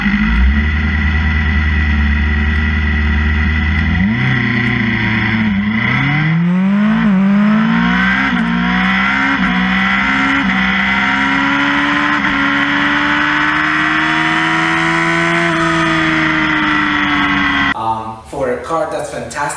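A Suzuki GSX-S1000 motorcycle accelerates hard down the strip at Tucson Dragway, short-shifting through the gears. Its loud engine note climbs, dips at each shift, then climbs again before cutting off abruptly near the end.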